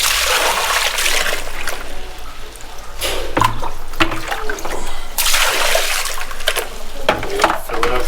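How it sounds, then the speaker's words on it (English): A toilet flushing in a restroom at Doi Inthanon National Park in Thailand, with water rushing and splashing loudly throughout, surges and gurgles rising and falling as the bowl drains and refills nearby. "Make sure you flush your toilet."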